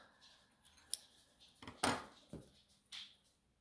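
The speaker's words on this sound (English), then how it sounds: "now cut your yarn" Scissors snip through crochet yarn with a few quiet, close metallic clicks and one sharper cut, set against a soft, otherwise still room.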